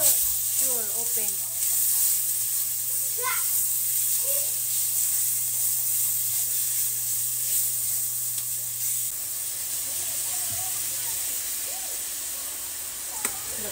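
Chicken breast fries in hot oil in a pan, a loud, continuous close sizzle and hiss with faint scraping, while voices speak briefly underneath.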